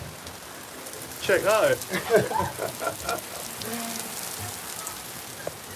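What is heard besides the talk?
rain falling at Caen Castle, France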